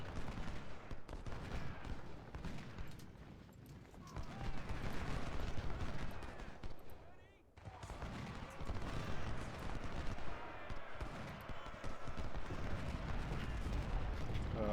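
Dense, continuous gunfire and booming cannon blasts roar without letup in the Civil War video game Ultimate General: Civil War, a chaotic battle din that dips briefly midway before surging back.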